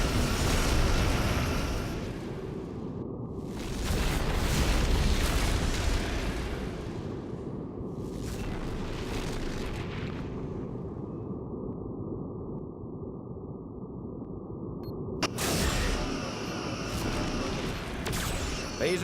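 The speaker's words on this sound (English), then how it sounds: "Photon torpedoes ready." Photon torpedo explosions in Star Trek Legacy, a space combat game: loud broad blasts burst out in bursts near the start, middle and end over a steady low rumble of engine and battle noise.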